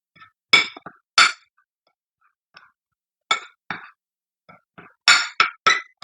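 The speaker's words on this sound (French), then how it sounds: "À l'aide d'une cuillère ou d'une fourchette, nous allons faire le mélange de ces trois ingrédients." A spoon or fork mixes salt and toothpaste, making sharp, close metallic clinks and scrapes in irregular bursts with quiet gaps between them.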